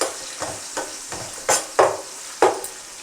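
Ginger garlic paste with green chillies frying in a pan on medium flame, with a steady soft sizzle broken by a series of sharp stirring scrapes, roughly six spaced strokes, close and fairly loud, no voices.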